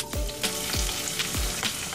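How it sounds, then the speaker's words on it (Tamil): Small shallots sizzle and fry in sesame oil in a kadai, a steady loud crackle with repeated sharp pops and spits across the whole stretch, with no voices. "கடாயில் 1/4 கப் நல்லெண்ணெய் சேர்த்துருக்கேன். இப்போ இது கூட சின்ன வெங்காயம் சேர்த்துக்கலாம்."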